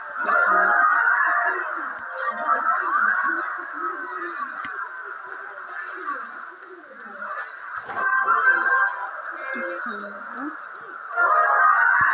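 Goose honking from a mobile battle game, loud repeated honks running steadily throughout, mixed with game sounds and someone talking over it.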